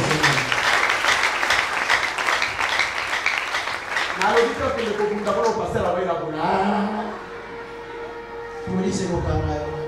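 A church congregation at a Sunday sermon breaks into loud sustained applause, with voices calling out over the clapping before it thins and speech takes over.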